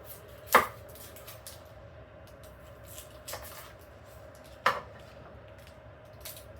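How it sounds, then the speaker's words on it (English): A knife chops through an onion on a cutting board in a home kitchen, giving a few sharp, separate knocks spaced seconds apart against a quiet room hum. "Now we're going to cut up our onion and hope that it doesn't bring tears to my eyes."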